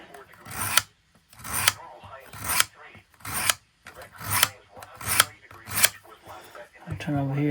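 A knife blade is stroked across a 200 grit diamond plate on a field guided sharpener, giving about eight loud rasping passes in a steady rhythm, close up, with a brief voice at the end.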